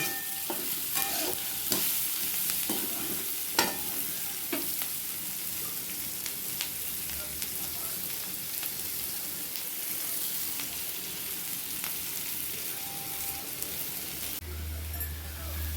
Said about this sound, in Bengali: আলু, পেঁয়াজ, রসুন, কাঁচা লঙ্কা, শুকনো লঙ্কা দিয়ে মেথি দিয়ে এটা ভেজে নেব